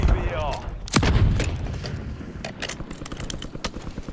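A frag grenade explodes in the Call of Duty Verdansk battle royale: one deep, booming blast that swells and rumbles away, then softer gunfire pops and thuds. Voices talk faintly beneath the battle.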